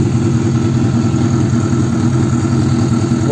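A warm 2006 Suzuki SRAD 750 sport motorcycle engine idles close by, a loud, steady low-pitched burble that holds an even pulse throughout with no talking.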